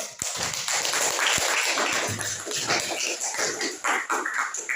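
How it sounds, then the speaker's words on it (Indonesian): Students in a middle school civics class applaud a classmate, a continuous, fairly loud spatter of many hands clapping for nearly five seconds with a few louder slaps near the start. "Tepuk tangan untuk Ade."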